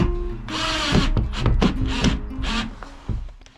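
A power drill whirs in several bursts, biting and grinding into material at close range, with rough scraping between the runs, working on a shed until the drill bit breaks.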